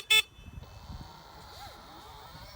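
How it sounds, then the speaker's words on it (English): A Stigo+ electric scooter's beeper horn gives one short, sharp electronic beep at the start, followed by faint motor whine and rolling noise outdoors. "Yeah, it has got a beeper, but I keep pressing that by mistake."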